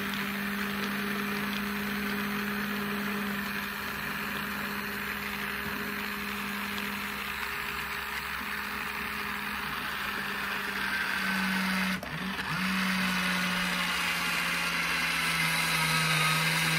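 A small robot jar opener's motor hums steadily as it squeezes a tightly closed jar and unscrews the lid, a continuous mid-pitched whir with a brief wobble and strain near the end, heard alone.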